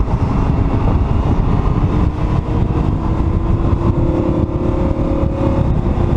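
Lamborghini Huracan LP 580-2 engine pulls hard and loud, a steady roar that climbs and holds with a rising note, with no voices over it.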